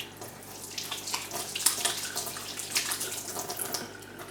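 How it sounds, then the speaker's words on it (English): Water runs from a tap as dusty hands are rinsed at a sink, a close, splashing gush that shifts and spatters unevenly for a few seconds. "Sorry, just rinse my hands."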